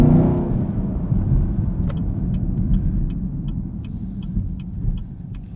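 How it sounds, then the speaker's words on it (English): Traffic passes outside a 2018 Chevrolet Camaro 2SS with a manual gearbox, a low steady rumble of cars and engine drone heard from inside the cabin, with faint ticking over it. "As traffic goes by"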